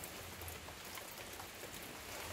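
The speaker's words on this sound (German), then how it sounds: "jetzt regnet's." Rain falling in a small, damp garden on Madeira, a soft continuous patter and hiss of drops on surfaces, faint and even throughout with no talking.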